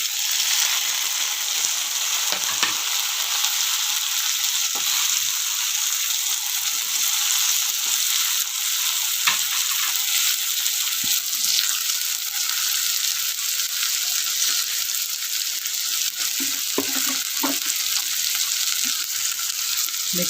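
Ginger and tomatoes sizzling in hot oil in a frying pan for a Marathi cauliflower and pea dish, a continuous bright frying hiss with occasional small pops and stirring scrapes.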